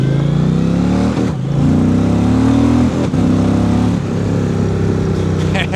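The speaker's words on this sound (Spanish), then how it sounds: "Vamos a pisarlo un poquito." Indian Chieftain PowerPlus 2025 touring motorcycle accelerating on the road, its engine revving loud and close with rising pitch through several gear changes, brief dips between pulls.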